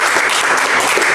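Junior high students in a classroom clap for a fellow student group, a dense burst of close applause filling the whole short moment with no talking.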